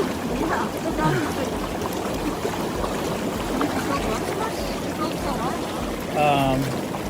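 The bubble jets of an Intex inflatable spa hot tub churn the water with a steady, close rushing and gurgling. The sound runs throughout, and faint voices are mixed in beneath the bubbling.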